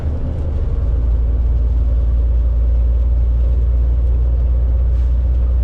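A heavy truck engine idles cold on a freezing day around minus ten, giving a steady, loud low rumble and whir that holds unbroken from start to finish with no voices over it.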